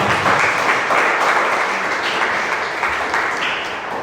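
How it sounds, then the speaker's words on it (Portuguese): A church congregation claps together in a dense, steady round of applause lasting a few seconds, loud and close, with no talk over it. "Uma salva de palmas."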